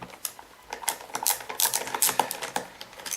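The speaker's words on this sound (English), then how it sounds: "we're going to undo the tech drive, which is just these 3 screws" Torx screws coming out of a Kirby vacuum's tech drive, a rapid run of close, dry clicks and light ticking taps from the driver bit, irregular and with no voices.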